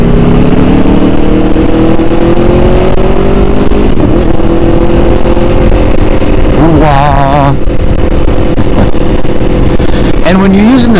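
Aprilia Tuono motorcycle engine droning loudly on an open road, with the pitch climbing and dropping through shifts using a speed shifter, continuous and close, and wind noise over it.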